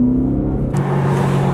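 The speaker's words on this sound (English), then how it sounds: "Wheel spin." A car spins its wheels under hard acceleration, a steady low engine drone that jumps into a harsher, brighter roar partway through and holds loud and close to the end.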